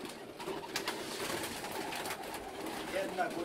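Soft coos from racing pigeons repeat against a busy outdoor background at a pigeon loft during feeding, with faint chatter and rustling underneath.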